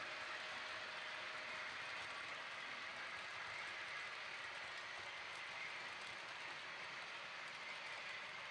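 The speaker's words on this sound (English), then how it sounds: "Into view comes a Class 47, all in container traffic, on the southbound slow goods line." A Class 47 diesel locomotive hauling a container freight train rumbles past steadily with a broad, continuous roar and faint rhythmic rail noise, sustained throughout without voices.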